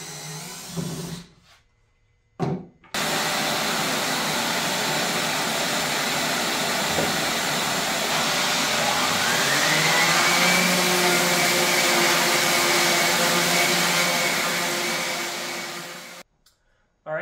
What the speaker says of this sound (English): So I got it all sanded up